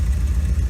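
A Ford Mustang II with a straight-piped exhaust and the catalytic converter cut out idles close by, a loud low rumbling burble pulsing steadily, with no talk.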